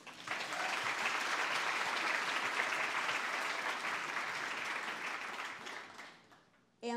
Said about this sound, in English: So thank you so much, and another round of applause for them.